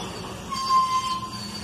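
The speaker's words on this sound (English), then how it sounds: "We got 12 loads of salt on the end of their train" Freight train with twelve cars loaded with salt on its rear, rolling past with a low rumble and a steady, faint high metallic wheel squeal or hum; brief and continuous, no voices.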